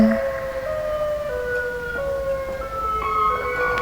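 A wailing siren inside a Roblox horror survival game, with steady, shifting electronic tones sounding throughout at a moderate level and no talk over it.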